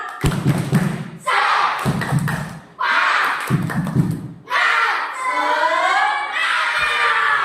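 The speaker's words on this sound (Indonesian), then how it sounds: "Tepuk semangat." A group of elementary school children in Indonesia beat out rhythmic spirit clapping in tight bursts with thumps, breaking between rounds. Their shouts and cheers rise over the claps, close and loud, with an adult voice leading.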